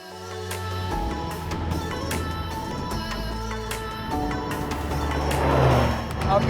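A McLaren 600LT engine revs hard toward 8,000 RPM with exhaust pops at the top, a rising mechanical howl under a presenter's voice, with sharp crackles toward the end.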